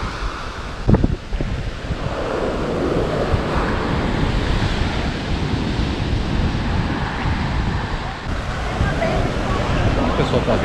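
Ocean waves wash in at high tide on Pitinga beach near Porto Seguro, a steady broad roar of surf blended with heavy wind buffeting the microphone, with a faint voice briefly early on.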